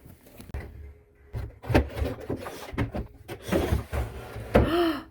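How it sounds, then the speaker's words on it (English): Wooden antique dresser drawer sliding into place without catching, a series of soft knocks and scrapes up close, with faint talking and a short rising squeak near the end. "And it slides right in without catching"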